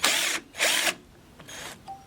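A cordless drill whose chuck works forward but fails in reverse and comes loose spins up in three short bursts, two close together, then a fainter third after a pause.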